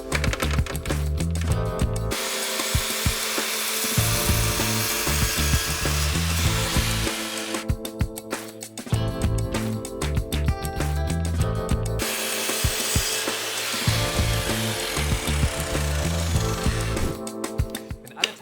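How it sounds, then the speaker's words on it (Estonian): Wooden strips are cut to equal lengths at a 22.5-degree angle with a pull saw and a circular saw, loud close rasping and whining in long passes broken by brief pauses, with no talk. "lõikad sa tõmb- ja ketassaega 8 ühepikkust tükki"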